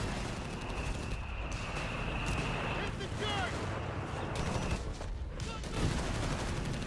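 Gunfire and artillery in the WWII strategy game Company of Heroes 3, with dense bursts and booming shots layered over constant battle noise while a commentator talks throughout.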